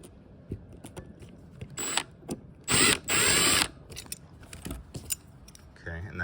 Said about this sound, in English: So let's screw it back in.